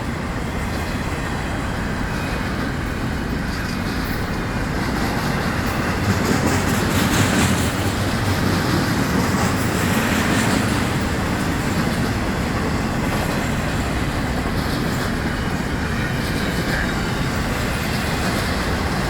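A long double-stack FEC freight train passes close by in a continuous loud roar of wheels and rolling cars, steady for the whole stretch with no break or voices.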